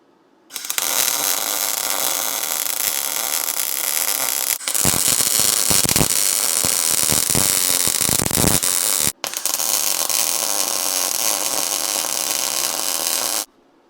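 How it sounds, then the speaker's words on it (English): Welding parts onto a DIY discada cowboy wok cooker: a steady, loud crackling hiss runs in two long stretches separated by a brief break, with sharper pops mid-way. "Let's get them welded in."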